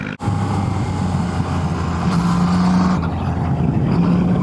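From a motorcycle touring Sardinia's winding roads, a car approaches and passes amid steady engine and wind noise, a brief loud swell followed by continued rumble.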